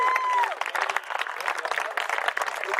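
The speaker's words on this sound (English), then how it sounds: "Let's give him another round of applause." A football crowd at a grand final gives sustained applause with scattered cheers, dense and steady, while a voice speaks over it near the start.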